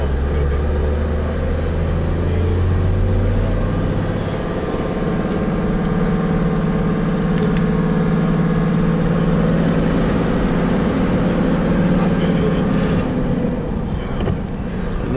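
A car cruises through the streets of Arusha, Tanzania, its steady engine and road rumble loud and continuous throughout, with no break in the drone.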